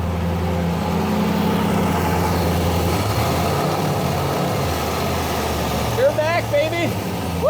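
A turbocharged LS1 V8 in a 1000-horsepower Trans Am with a new air-cooled turbo idles right after its first start, a steady, close, low rumble, with voices breaking in near the end.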